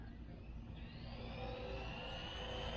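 A Mini B RC car's brushless motor whines up to full throttle out on a street, a faint, thin rising whir that climbs in pitch and holds, with no voices.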